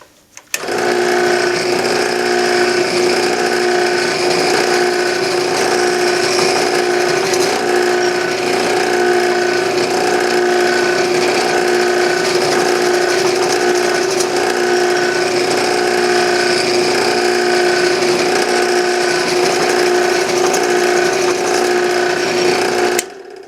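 A drill press drilling into wood on a sacrificial block gives a steady, loud motorized whine with a constant pitch, droning on without a break.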